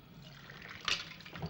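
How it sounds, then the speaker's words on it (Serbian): Hot water trickles and pours into a thin drinking glass, a quiet close pour with a brief brighter splash partway through, in a hushed room. "A sada na red dolazi vruća voda."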